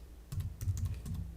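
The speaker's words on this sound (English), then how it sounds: "I'm just going to type it in here just to reinforce it." A short burst of typing on a computer keyboard as a web address is entered, about half a dozen quick, close key taps, fairly quiet, with no talking.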